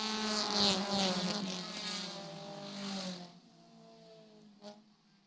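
Race cars roar off at the start of a 15-lap Fast and Furious 4s race at Jennerstown Speedway, a loud, rising engine drone that fades as the pack pulls away, followed by a brief distant engine burst.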